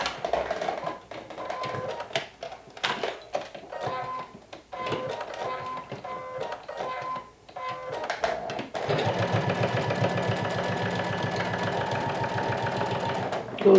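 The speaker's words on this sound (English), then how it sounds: "we're going to stitch all around the curve with a half an inch seam allowance" A sewing machine stitches a curved hood collar seam with half-inch allowance on a lumberjack shirt, running in short bursts of rapid mechanical chatter, then a longer steady run, close and fairly loud.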